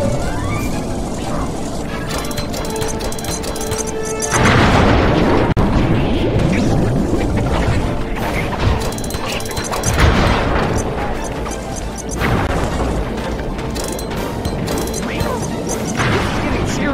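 Repeated bomb blasts against tar pipes in Sly 3, Venice stage, loud crashing booms and bursts with clanking mechanisms, with heavy clusters of impacts separated by brief calmer stretches.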